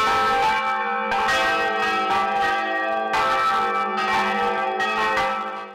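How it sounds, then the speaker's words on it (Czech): Church bells ring out loud and close from a church tower in Ústí nad Orlicí, several heavy strikes overlapping with long resonant hum between them, no voices. "kostelní věž, kde se každou půl hodinu rozezněly kostelní zvony"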